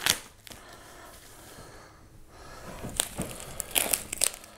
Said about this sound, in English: And go ahead and pull the tape.